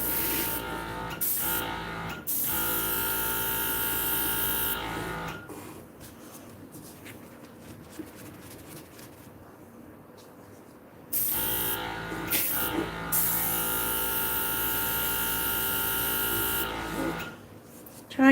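An airbrush sprays isopropyl alcohol over alcohol inks, its steady loud hiss running in long bursts that stop and start again, with a quieter gap in the middle.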